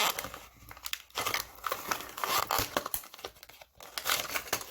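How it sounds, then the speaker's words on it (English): A piece of adhesive tape being pulled and torn during a toy brick build, close crinkling and ripping bursts in an irregular rhythm, fairly quiet. "there's a second piece of tape"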